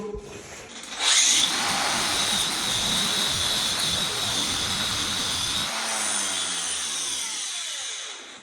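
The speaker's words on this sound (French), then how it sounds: "donc là, on a fait un test au burin" A chisel working on old cement floor tiles is loud, dense and continuous for about eight seconds after a brief quieter start, a harsh rasping, grinding roar that fits a powered chisel more than hand blows.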